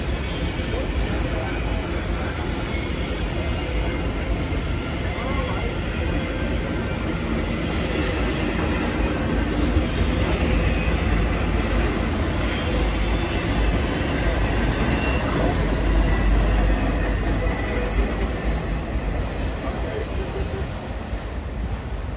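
Railroad cars roll past at Roseville, a steady loud rumble of wheels and rail noise that holds evenly for over twenty seconds with no break.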